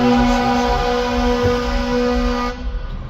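Fire truck and ambulance sirens blare in a sustained, steady tone from nearby, holding loud for a few seconds before cutting off, leaving faint traffic noise.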